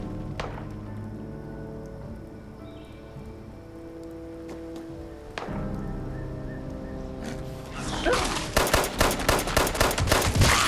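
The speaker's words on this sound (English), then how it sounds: "Hearing gunshots." Gunfire in the video game Fallout 76: scattered single shots early, then a rapid burst of automatic fire near the end, growing louder, with no talk.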